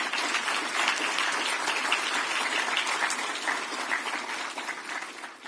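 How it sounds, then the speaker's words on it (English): An audience at a city address claps together in sustained applause, a steady wash of many hands that holds for several seconds before beginning to thin. "We can clap for that."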